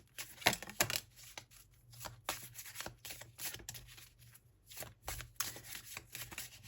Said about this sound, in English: Let's draw some more cards and see what more you need to learn at this time.